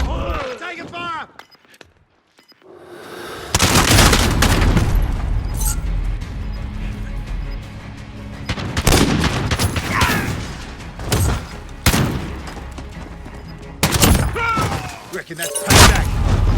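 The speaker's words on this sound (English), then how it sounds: "Taking fire!" Rapid, loud gunfire bursts crackle through a video game firefight over an objective, repeated volleys and thuds separated by brief lulls, with game voices calling out over the action.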